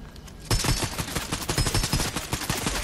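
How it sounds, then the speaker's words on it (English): Rapid gunfire in Fortnite, a sharp burst starting abruptly and continuing as a rhythmic string of close, loud shots for about two seconds. "There was one shooting behind me that was up here."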